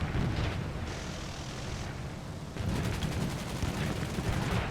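Aircraft machine gun fire in War Thunder from a Gloster Gladiator biplane fight, loud dense rattling bursts over a constant engine drone, with a short break before a second burst.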